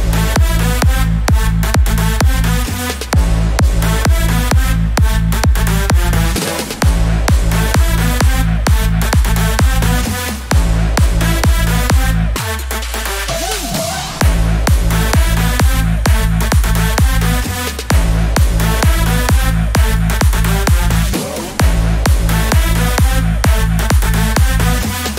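Full electronic dance drop produced in FL Studio, with kick and drums pounding under brass and synth chords, loud and steady with a short breakdown midway.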